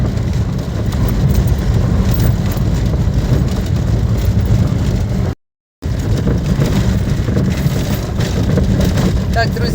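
A vehicle rolls along a rural village street, its engine and tyre rumble a steady close drone inside the cabin with a brief cut midway and speech mixed in.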